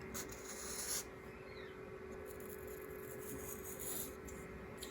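A sanding stick rubs along a small model ship's boat part in a soft, continuous rasp, faint and close, with a few slightly louder strokes and no talking.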